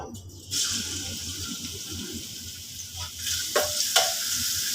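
Pork with chili and long beans sizzles in a hot pan while being stir-fried, a steady crackling hiss with a few sharper scraping stirs toward the end, no voices.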